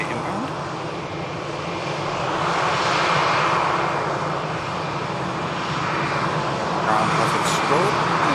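An EasyJet airliner inbound from Gibraltar roars steadily at Manchester Airport, its jet engine noise broad and sustained, swelling slightly midway and holding loud to the end.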